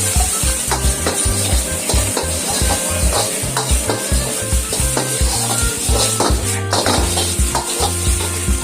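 Chopped garlic and egg fry in a pan with a steady, loud sizzle and rhythmic stirring or scraping throughout, close up and with no speech.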